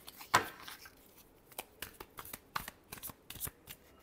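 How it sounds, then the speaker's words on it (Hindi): Tarot cards riffled in one quick burst, followed by a run of soft, separate flicks and taps as the deck is squared and handled, close and fairly quiet with no talking. "Last shuffle."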